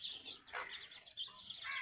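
Young chicken chicks peep and cheep in a series of short, high, faint calls close by, several overlapping chirps in quick succession.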